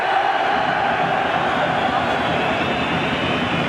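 A large football crowd at the Irish Cup final, Cliftonville against Glentoran, roars steadily in a big stadium, a loud, continuous wash of cheering that neither builds nor fades.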